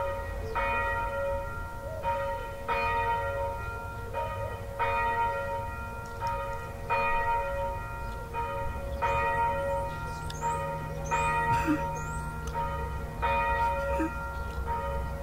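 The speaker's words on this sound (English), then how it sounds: "Can you hear the bell tower?" Church bells ringing from a tower, a regular series of struck tones repeating roughly once a second over fifteen seconds, somewhat distant and moderately faint above a low background hum.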